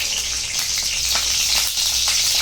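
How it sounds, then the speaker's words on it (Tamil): Tomato and onion sautéing in oil in a kadai for chicken kuzhambu, a loud, dense, continuous sizzle with a hissing wash throughout and no talk. "அதுக்குள்ளே நம்ம இன்னொரு கடாயை வச்சு அதில் வெங்காயம் தக்காளி இதில் வதக்கி காமிக்கிறேன்"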